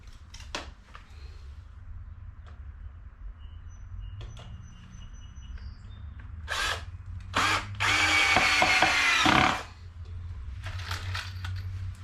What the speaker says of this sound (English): And we put our screw in.